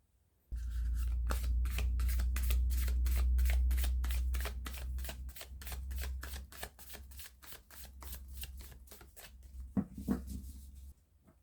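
A deck of tarot cards is shuffled and drawn in a rapid, steady run of crisp riffling flicks, close and clear, over a low background hum, ending with a few softer handling taps.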